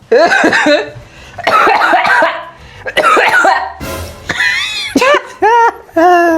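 A person coughs hard several times in quick bursts, close and loud, with some laughter mixed in.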